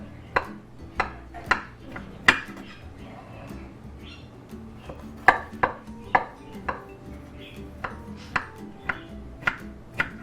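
A knife slices into a blueberry cheesecake bundt cake, producing a series of sharp, close taps and scrapes against the plate at irregular intervals, with quiet surroundings between strikes.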